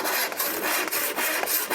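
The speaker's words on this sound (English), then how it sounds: "we're going to take our handy dandy handsaw and cut right here on the line" A handsaw rasps through solid wood along a marked line while cutting guitar sides, producing steady, close back-and-forth strokes with brief pauses between passes.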